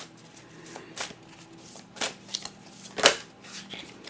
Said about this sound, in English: Do a couple of these shuffles this way.